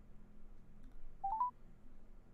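Touch-tone telephone keypad being dialed while redialing a number, a short cluster of a few quick beeps near the middle, fairly faint above a low background hum.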